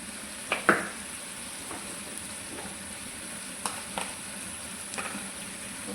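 Onions and tomato frying in a pan for chicken biryani, giving a low constant sizzle with a few sharp spatula scrapes and clinks near the start and middle.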